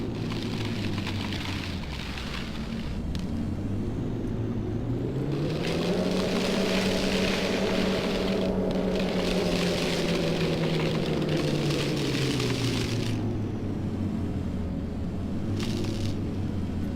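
A rover buggy in the Take on Mars video game reverses across the Martian surface, its steady motor hum swelling in pitch midway, then easing back down over a continuous hiss.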